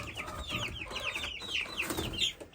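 Four roosters and three hens cluck and chatter nearby in a steady, overlapping stream of short calls, with no talking.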